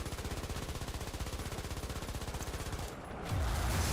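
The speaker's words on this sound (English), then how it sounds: "Wait, I forgot I have a machine gun." The machine gun on a Panzer IV/70(A) tank destroyer in War Thunder fires a long, even, rapid burst of close, punchy shots for almost three seconds, then cuts off, leaving louder engine and battle rumble.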